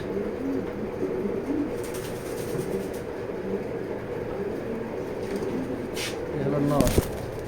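Breeder pigeons in a loft coo softly in low repeated phrases over a steady background hum, with a brief louder burst of activity near the end.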